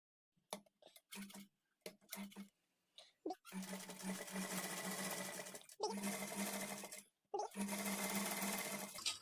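A sewing machine stitches piping onto lining cloth in several bursts of rapid, close whirring, with short quiet gaps and a few faint clicks between runs.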